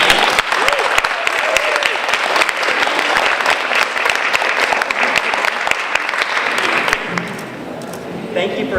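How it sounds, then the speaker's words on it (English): Sustained round of applause from an audience at a marathon recognition ceremony, honoring the Bellingham Bay Marathon director; steady dense clapping with some voices mixed in, thinning out toward the end. "So please give him a round of applause."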